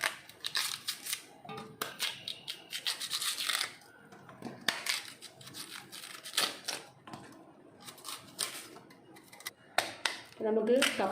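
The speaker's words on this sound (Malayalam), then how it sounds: "അപ്പോൾ നമ്മുടെ കപ്പയുടെ തോട് കളഞ്ഞെടുക്കാവേ." Cassava skin being peeled off, a series of close, irregular scraping and tearing crackles in bursts with short pauses between them.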